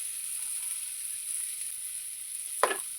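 Spice paste of onion, tomato, ginger-garlic, salt and turmeric frying in a pan, a steady soft sizzle with one brief louder burst of hissing near the end.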